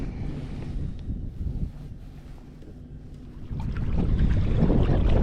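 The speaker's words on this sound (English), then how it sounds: "You can hear the wind, see the weather in my background." Wind gusts blow across the microphone outdoors on an inshore fishing trip near the water, a continuous rumbling buffet that eases briefly then builds louder toward the end.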